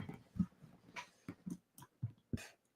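A few short, soft dog barks and huffs come from dogs lying in their bed, spaced irregularly and fairly close.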